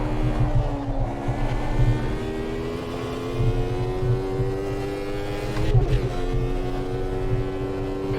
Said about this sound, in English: the Model 3 car, in this case the Benetton, it sounds and it drives super cool